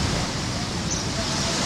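Surf rolls onto a beach in Hawaii as a loud, continuous roar of waves mixed with wind buffeting the microphone, with no clear break between swells.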